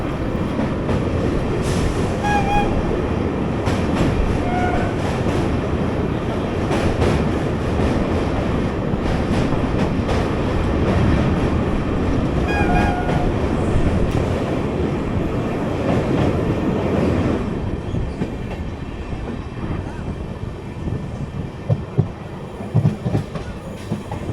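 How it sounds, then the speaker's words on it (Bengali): Kolkata–Sairang Express thunders across the Ganges bridge near Azimganj with a loud, steady rumble and rhythmic wheel clatter. Its horn sounds twice in short tonal blasts, and the rumble eases toward the end. "ব্রিজ পেরিয়ে ট্রেন কিন্তু আজিমগঞ্জ স্টেশনের প্রায় কাছে চলে এসছে"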